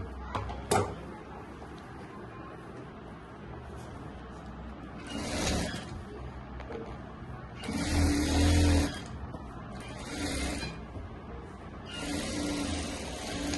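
A sewing machine stitches the side seams of a Rajputi kurti in short, whirring bursts, with pauses of handling between runs and faint talk in the background.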